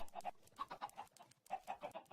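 Minecraft chickens clucking in a cluster, a quick run of short clucks and squawks in irregular bursts, fairly faint, with no talking.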